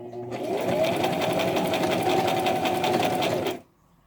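A Brother LX3817 sewing machine stitches a buttonhole with a fast, even whirring hum for about three seconds, close and loud, then stops abruptly.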